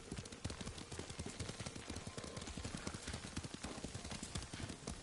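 Horse hooves pound in a quick, steady gallop while riding in the samurai game Ghost of Tsushima, a dense run of close, continuous hoofbeats with no voices.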